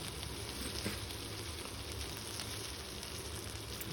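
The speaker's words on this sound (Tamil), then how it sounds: "கருவேப்பிலையும் பச்சை மிளகாயும் சேர்த்து நல்லா வதக்கலாம்." Curry leaves and green chillies sautéing in hot oil, a steady dense sizzle and crackle that carries on evenly and fairly faintly with nothing else heard.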